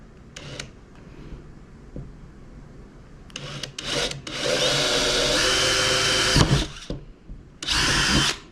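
A power drill bores a hole for a floating net handle extension, whirring in several close, loud bursts of varying length with short pauses between.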